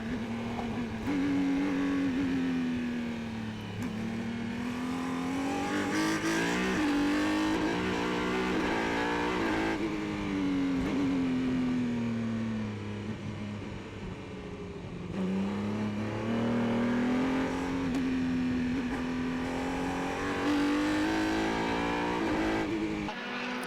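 Formula racing cars, including an old Lola, circle the Mondello track, their engines rising and falling in repeated drawn-out passes, loud and continuous with revving swells and no talk.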